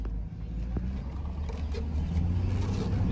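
A pickup truck engine rumbles low and steady from inside the cab during a short test drive down the block, with a constant droning hum and faint road noise.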